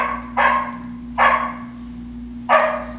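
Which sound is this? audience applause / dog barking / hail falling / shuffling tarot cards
dog barking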